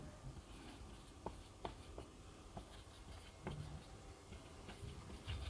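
Marker or chalk writing on a classroom board, a series of short taps and scratchy strokes close by over a steady background hiss, with no talk.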